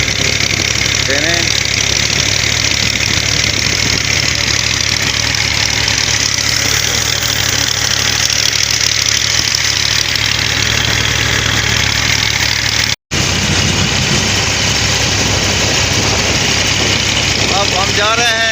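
A vehicle hauling a trolley of bricks through a village in June hums with a loud, steady engine drone. The drone carries on nearly unchanged except for a brief dropout partway through.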